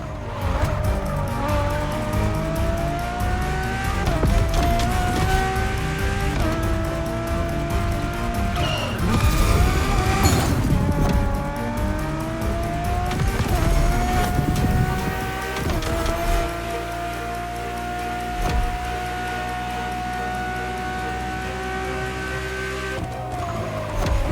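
A Ferrari supercar in the racing game The Crew Motorfest roars continuously at full throttle, revs climbing and dropping through gear shifts, with tire squeals and skids mixed into the loud, close engine note.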